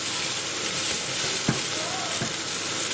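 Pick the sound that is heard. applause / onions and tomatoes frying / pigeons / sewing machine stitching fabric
onions and tomatoes frying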